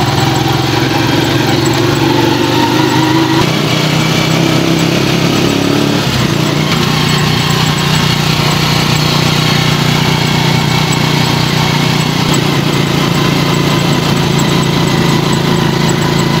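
A motorcycle engine runs loudly and steadily, with its pitch shifting as the throttle changes around a third of the way in, continuing near and unbroken.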